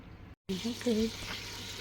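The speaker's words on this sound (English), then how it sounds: "because it's gas, so let the butter melt" Butter melting in a pan over a gas flame, a soft continuous sizzle starting after a brief gap, with faint tonal clinks early on and no clear speech.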